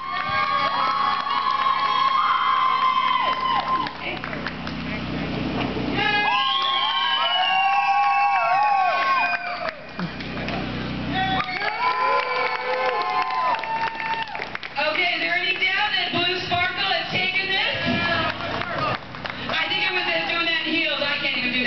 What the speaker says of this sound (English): put my hand up, and you applaud for the one you want to win